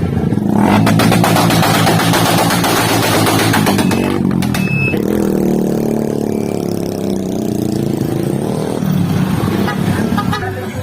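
Custom-built motor truck from a motor shop in Calatagan, Batangas, its engine running loud and close throughout, with rough revving, a few short horn toots, and voices talking over it.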